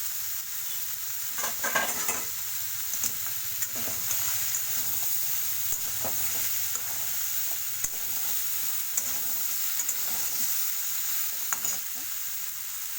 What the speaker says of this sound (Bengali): সবজিটা একটু ভালো করে কষিয়ে নিলে টেস্টটা একটু বেশি ভালো হয়